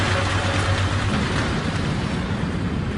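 Steady heavy rain beside an airliner on approach in a storm with gusting wind, a dense continuous hiss with low rumble throughout, loud and constant with no voices.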